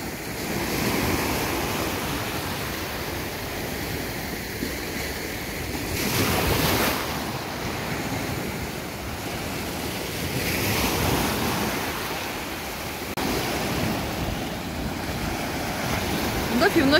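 Sea waves break and wash ashore at Mahmutlar, Alanya, Turkey, in repeated surges, swelling and fading every few seconds over a constant windy roar.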